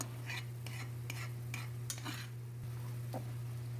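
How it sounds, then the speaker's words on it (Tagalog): Sautéed shrimp paste being stirred into chicken breast for Bicol Express, giving rhythmic spoon scrapes against a pot every half second over a steady low hum and faint sizzle, close and fairly quiet. "Tapos haluin natin para kumalat yung lasa ng bagoong."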